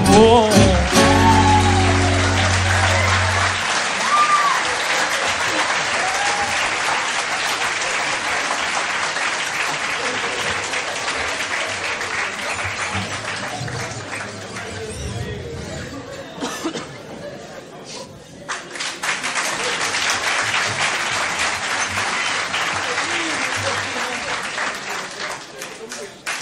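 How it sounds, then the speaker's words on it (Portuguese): Sustained, loud applause from a live audience at a fado comedy show fills the room for the whole stretch, swelling and dipping slightly around the middle before building again, with a few brief musical tones at the start. "Gostei do facto das palmas para ele serem mais fraquinhas."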